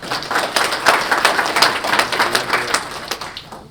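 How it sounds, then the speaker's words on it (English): An audience at a mayor's breakfast gives a round of applause, a dense spell of many hands clapping nearby for several seconds before it tapers off. "Can we give a round of applause?"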